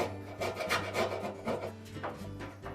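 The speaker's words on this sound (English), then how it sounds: "So either using a putty knife, a wire brush, or a solvent that will soften that glue and remove it." Old adhesive being scraped off the drum of a Whirlpool dryer, using a putty knife or wire brush, makes steady close rasping strokes, about two per second, alone without talk.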